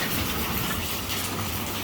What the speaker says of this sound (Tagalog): Malakas na naman ang ulan.